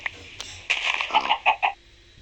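Several short, sharp clucks from a chicken in Minecraft in quick succession, fairly close and clear over a quiet background.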